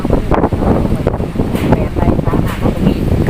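Strong wind buffets the microphone outdoors on a cattle farm, producing loud, rumbling gusts that keep rising and falling under someone talking.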